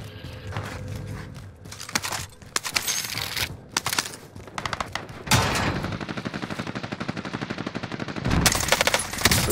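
Gunfire in a shooter video game, with single shots and sustained rapid automatic bursts, some nearer and louder, others fainter, continuing through the clip with no talk.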